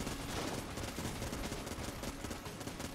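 A Vulcan cannon fires nonstop in Enter the Gungeon, a dense, steady stream of rapid shots forming a continuous rattling roar at fairly low level with no gaps.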